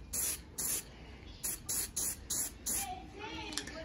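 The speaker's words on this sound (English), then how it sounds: "Shaking up the spray paint." A series of short, hissing spray bursts from an aerosol can of green spray paint, about seven in a loose rhythm, close up, followed by a brief quieter voice.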